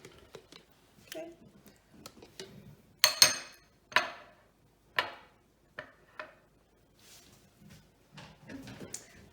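A spoon scrapes and clacks through a bowl of chicken pasta salad dressed with Hellmann's mayonnaise, making irregular close taps and wet stirring scuffs, with a few louder knocks partway through.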